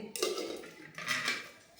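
Metal cooking pots and pans, including a wok-style vadasatti, clatter and clink as they are handled indoors, with two short bursts of scraping, knocking metal and no talk.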